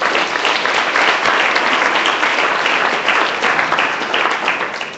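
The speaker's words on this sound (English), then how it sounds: "Give yourselves a round of applause." An audience at a Hurricane Katrina commemoration breakfast in New Orleans applauds loudly, a full steady roar of clapping that holds for several seconds before easing off at the end, with no talk over it.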